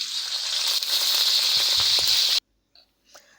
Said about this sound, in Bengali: তেলটা গরম হয়ে গিয়েছে এখন আমি মরিচটা তেলের মধ্যে দিয়ে দিয়েছি